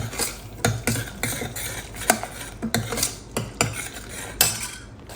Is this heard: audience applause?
no